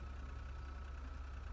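A car engine idles with a steady low rumble, quiet and even, with no change in pitch and no voices.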